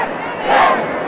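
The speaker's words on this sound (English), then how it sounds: "the crowd starts to chant 7." A college football stadium crowd at North Carolina's home win over Georgia Tech in 1996 roars and swells into a loud collective chant of the number seven, rising toward the middle and holding steady to the end.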